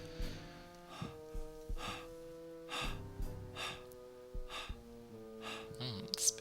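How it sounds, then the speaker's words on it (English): Heavy, rhythmic breathing runs through a horror game scene, with repeated gasping inhales and exhales over a sustained droning music bed. "It's a bit of heavy breathing on stream."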